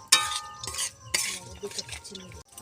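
A spoon stirs turmeric and salt into flour in a bowl while making singara dough, with close, irregular clinks and scrapes against the bowl and some faint background sound.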